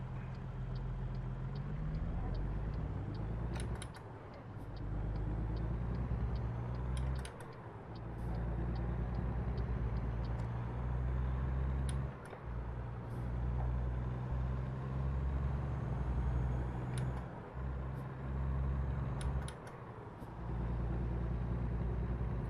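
Trash truck engine rumble in the American Truck Simulator video game, a steady low idling drone with periodic clicks and brief dips, continuous and fairly quiet throughout.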